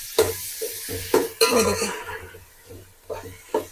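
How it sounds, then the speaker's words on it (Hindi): Beef frying with ginger garlic paste in a pot, loud clattering stirs and scrapes of a spoon against metal over an intermittent sizzle, with a brief spoken remark near the start. "अच्छे से गोश्त को फ्राई करेंगे।"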